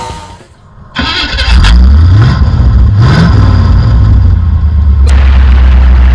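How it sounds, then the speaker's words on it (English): A loud 1949 Hudson Commodore engine cranks and catches, then revs up and down in rising sweeps before settling into a rough, throaty idle close by. "That's his car. It always seems to make more noise than any other."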